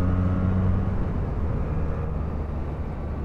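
A Benelli BN302 twin-cylinder motorcycle engine drones loudly and steadily nearby, a low throbbing rumble with a gradual build in revs from around 3000 rpm.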